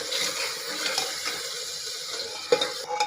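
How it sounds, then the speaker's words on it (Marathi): Ginger garlic paste frying in a pan of oil with onions, a steady wet hiss and sizzle close by, with a sharp clink of a utensil near the end. "आलं अद्रक लसणची पेस्ट टाकूया दोन मिनटं चांगली होऊ द्यायची"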